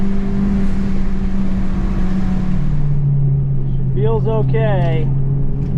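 A Honda Civic Type R idles and warms up, a steady loud engine drone that settles to a lower pitch partway through, heard from inside the car while a person speaks briefly over it.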